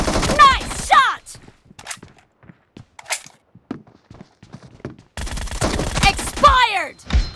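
Video game gunfire in a team deathmatch, sharp bursts of shots and rapid clicks clustered at the start and end with sparse quieter taps between, plus game announcer voice lines and effects over it.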